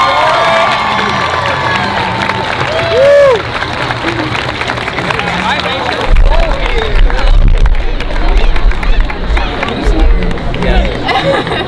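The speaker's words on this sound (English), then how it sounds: "Let's have a big round of applause for all the candidates and the king and queen" Large high school homecoming crowd cheering, shouting and clapping for the candidates and the king and queen, a loud continuous roar with children's shrieks and chatter mixed throughout.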